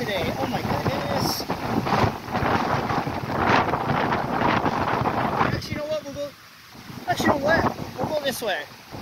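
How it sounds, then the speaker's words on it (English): Gusty wind buffets the microphone in loud, rumbling bursts, with a voice speaking briefly partway through. "it's windy today"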